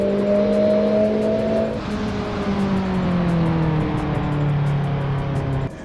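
Tuned Mitsubishi Evo 3 race car engine on a track during a hot lap in a driving game, a loud sustained engine note that drops sharply on a gear change, then climbs and sags in pitch as it runs on, close and alone.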